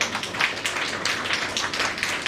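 An audience applauds at an annual programme in a hall, a dense stretch of many hands clapping together at a fairly even level.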